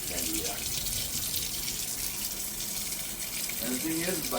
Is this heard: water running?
yes